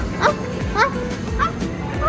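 A girl imitates a dog, giving four short, high yapping barks spaced about half a second apart over soft background noise in a shop.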